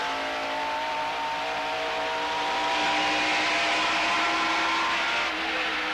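Bill Elliott's stock car at full race pace, engine howling steadily as it climbs through the gears, loud and close with rising pitch and a brief dip at each shift, no talk over it.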